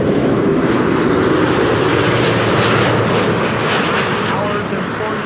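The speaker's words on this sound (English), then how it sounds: "This is Delta Airlines Flight 142" A Delta Airlines passenger jet arriving at Amsterdam Schiphol Airport on a frosty day roars loudly and continuously, a broad rumbling engine wash that holds steady throughout and eases slightly near the end.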